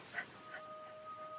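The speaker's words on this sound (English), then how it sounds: "My dog wants in my room." A dog whimpers and yips a few times at a closed door, wanting into the room, with short high whines fading over a faint steady background tone.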